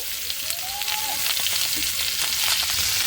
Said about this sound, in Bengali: তেলটা তেতে গেছে আমি ফুলকপিগুলো দিয়ে দেব তেলের ওপরে ফুলকপিগুলো দিয়ে দিচ্ছি দিয়ে একটু লাল লাল করে ভেজে নেবো